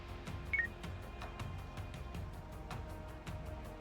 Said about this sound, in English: Popular ringtone. From Jamba.